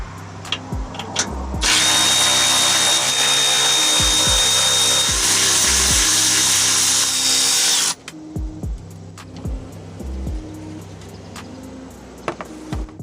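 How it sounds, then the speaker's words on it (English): An impact or power tool removes the skid plate fasteners on a Jeep Commander with a 13mm socket, running as one loud, steady whirring burst of about six seconds between shorter mechanical clicks and knocks. "You'll need a 13mm socket for removal."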